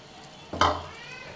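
Gulab jamun dropping into hot oil in a steel pan gives a sudden bright sizzle that swells and then settles into a quieter, steady frying hiss.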